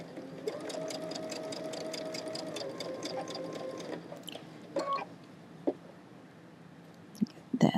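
A sewing machine runs in a steady, rapid stitching burst on quilt fabric, backstitching briefly, then stops, leaving a few light clicks and handling sounds close by.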